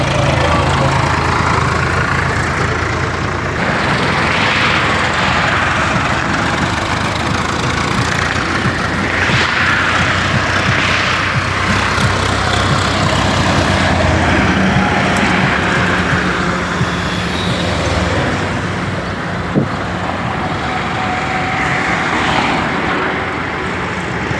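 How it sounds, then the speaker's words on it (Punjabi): Tractor convoy setting off carrying relief supplies for flood victims, a continuous steady engine drone and road noise from nearby vehicles, outdoors. "ਇਹਨਾਂ ਨੂੰ ਰਵਾਨਗੀ ਦਿੱਤੀ ਆ ਟਰੈਕਟਰਾਂ ਨੂੰ"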